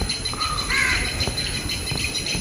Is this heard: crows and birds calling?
yes